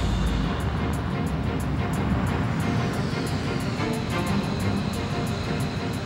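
A MiG 1.44 jet in Ace Combat Infinity roars steadily through a turn, a broad continuous rush with a faint whine sliding upward midway and light ticking clicks on top.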